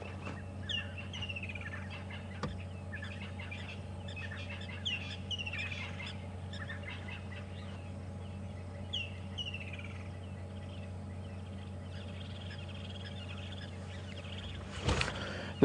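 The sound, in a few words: birds calling during a safari drive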